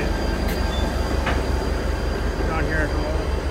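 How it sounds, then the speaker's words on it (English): At an old train depot during the Howell Melon Festival, a steam engine train rumbles as a loud, constant low roar, with brief metallic squeals and hisses breaking through. "Maybe we can get a glimpse of the steam engine real quick."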